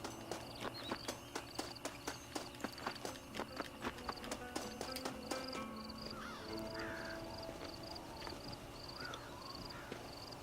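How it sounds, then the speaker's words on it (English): In Red Dead Redemption, a horse's hooves clip-clop in a steady walking rhythm for several seconds, then stop as crows caw in the open landscape around it. "Let's get off this horse."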